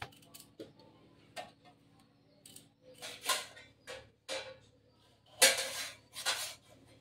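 A knife chops kohlrabi bulbs on a board in irregular, close, crisp cuts and taps. The strokes come in bursts with short quiet gaps, and no one talks.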